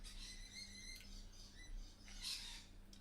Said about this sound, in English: I'm probably having to compete with the birds, actually, with noise. They are so loud this morning.